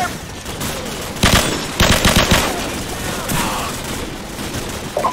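Machine gun fire in the military shooter Call of Duty 4 comes in loud rattling bursts, one around the one-to-two-second mark and another after two seconds, over constant battlefield noise.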